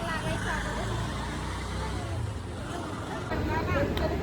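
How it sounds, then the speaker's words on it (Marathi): A bus rolls up to a roadside stop, its engine rumbling steadily and close, with traffic noise and people chattering around it. "बस आली आहे गाईज आमची"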